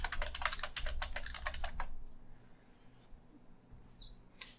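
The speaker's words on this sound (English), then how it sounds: "Here I'm typing the password that I changed it to" Computer keyboard typing as a password is entered, a quick run of sharp clicking keystrokes for about two seconds, then quiet room hum with a couple of faint clicks.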